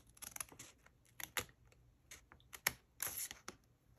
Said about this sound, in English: you want to come back with your scissors and you want to cut on those vertical